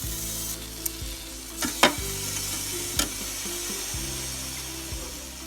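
Shrimp sizzle and fry in a preheated pan after a spray of butter-flavored cooking spray, a steady close hiss broken by a few sharp clicks and pops.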